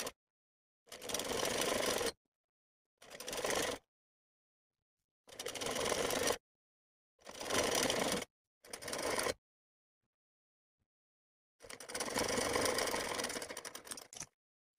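A sewing machine runs basting stitches on a suit, in six separate bursts of steady whirring of a second or two each, with silent pauses between and a longer final run.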